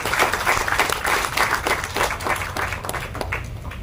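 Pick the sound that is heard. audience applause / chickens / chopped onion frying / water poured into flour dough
audience applause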